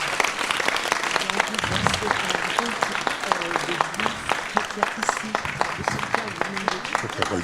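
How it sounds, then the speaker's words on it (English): An audience at a forum on peace applauds, many hands clapping in a steady, lively patter with a few sharper claps standing out, while a voice speaks faintly underneath. "vous pouvez les applaudir"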